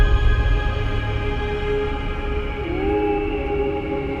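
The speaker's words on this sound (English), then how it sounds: "They are literally the sounds of space ringing." Sonified gravitational waves from merging black holes ringing down into one spinning black hole, heard as a steady droning hum with layered tones and a pitch that sweeps upward near the end, heard alone at even loudness.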